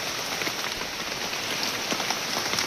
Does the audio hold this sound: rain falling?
yes